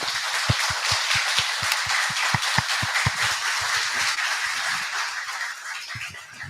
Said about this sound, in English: So can we give them a round of applause?